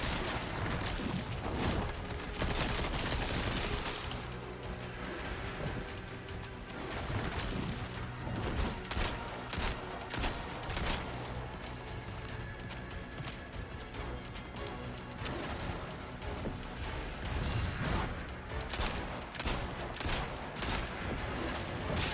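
Rapid bursts of gunfire and heavy impacts from the Resident Evil 4 Separate Ways video game, loud and dense throughout, with crashes and booms layered over a continuous music and effects bed.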